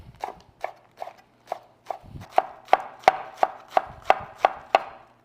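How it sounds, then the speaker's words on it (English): A knife slices a halved head of lettuce as thinly as possible on a cutting board for tacos. About a dozen crisp, close chopping strokes come in a steady rhythm and grow louder and sharper toward the end. "make one cut down the middle, and then we're gonna cut it as thin as we can"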